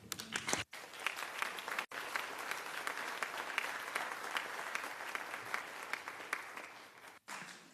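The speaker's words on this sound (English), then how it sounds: "applause takes a little time, but it's worth it" A UN meeting audience gives sustained applause after a speech on behalf of Afghan women, a dense, steady wash of clapping that holds evenly for several seconds, broken by brief cuts.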